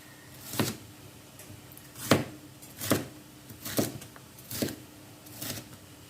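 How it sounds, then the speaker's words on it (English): A knife chops bell peppers into big pieces on a cutting board, six distinct, evenly spaced thuds about a second apart, close and fairly quiet with no voice. "Our peppers, I'm just going to kind of like chop them into nice big pieces like that"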